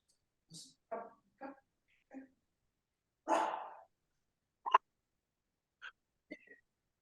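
A dog barks in the background during an interview, several short, sharp, somewhat distant barks spaced irregularly, with one longer bark in the middle, heard alone between pauses.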